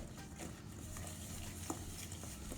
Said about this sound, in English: you just twirl it around, mix it, all the spices, let it go, let it coat